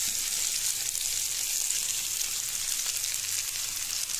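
Beef frying for Chittagong-style kala bhuna, a steady close hiss and sizzle from the pan that holds evenly throughout, with no voices.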